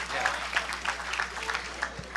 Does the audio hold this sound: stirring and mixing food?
no